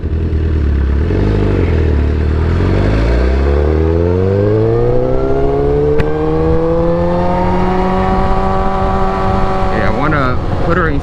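A motorcycle engine running on a test ride in sixth gear, loud and close, its pitch climbing smoothly and steadily as it accelerates, with a faint click partway through.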